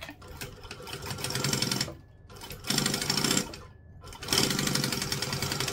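A sewing machine stitching and back stitching a seam at 2.5 stitch length, running in three loud, steady whirring bursts separated by short pauses, close up and without talk.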